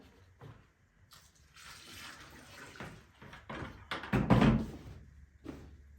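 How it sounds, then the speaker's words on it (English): Water is poured into a seed-starting container, a faint uneven splashing with soft knocks and handling noises around it, quiet and close. "So anyway, let's put some water in here."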